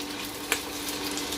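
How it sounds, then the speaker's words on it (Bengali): Chopped capsicum sizzles quietly in oil in a wok, a soft steady frying hiss broken by one brief scrape of stirring. "সুন্দর করে একটু ভালো করে ভেজে নেব"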